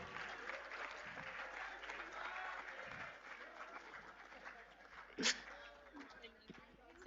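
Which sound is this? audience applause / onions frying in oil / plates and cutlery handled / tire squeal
audience applause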